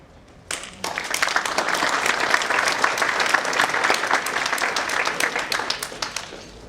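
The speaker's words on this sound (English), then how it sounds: "Let's give another round of applause, please" An audience applauds after a talk on customer service excellence, with a burst of clapping that starts suddenly, holds steady and dense for several seconds, then begins to thin out.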